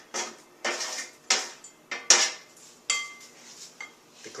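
Caramelized, slightly toasty onions being spooned into a rice salad bowl, giving a series of about seven sharp clinks and scrapes of utensil against dish at a steady, close rhythm, with no talking.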